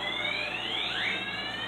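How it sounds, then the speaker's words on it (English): Indoor fire alarm sounding continuously, a steady high electronic tone with a brief upward sweep partway through, loud and alone with no talk. "Fire alarm."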